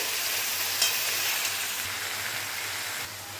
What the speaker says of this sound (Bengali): এবার এর মধ্যে ভেজে রাখা চিকেনগুলো সব দিয়ে দিলাম, দিয়ে ভালো করে নাড়াবো।